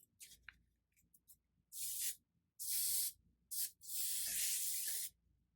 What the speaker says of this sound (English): what I like to do is go in with a little bit of texturizing hairspray